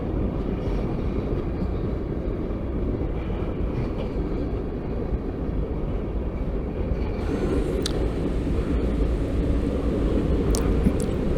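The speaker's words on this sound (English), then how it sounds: "these trains, when they're leaving the yard, they just don't go very fast" A heavy CSX freight train leaving the yard rumbles steadily and slowly past, a continuous low, dense roar with occasional metallic squeals and clanks toward the end.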